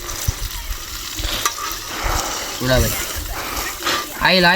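Fish fries in hot oil, a steady sizzling hiss with stirring and scraping, while people talk over it and something metallic clinks near the end.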